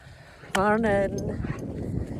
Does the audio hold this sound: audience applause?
no